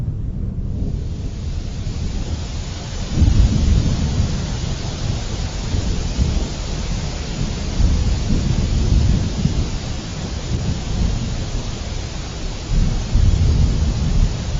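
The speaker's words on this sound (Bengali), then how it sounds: "বাইরে প্রচুর বৃষ্টি হচ্ছে" Heavy rain pours and thunder rumbles outside a house during a windy storm, a steady dense roar with deeper rolling swells of thunder building and fading throughout, no voices.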